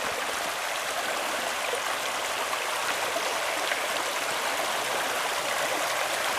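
The Léguer river rushes steadily in a continuous, close, full-bodied flow of water with no voices or pauses.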